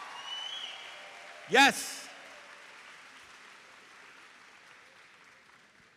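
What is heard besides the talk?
audience applauding seniors at graduation ceremony in arena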